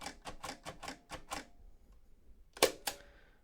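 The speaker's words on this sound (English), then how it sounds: "The bell dings on the 7th braille cell before the end of the line." A Perkins brailler embosses braille, giving a rapid run of about eight sharp mechanical key strikes and then a pause, followed by two louder clacks, one carrying the ring of the line-end bell, close and clear.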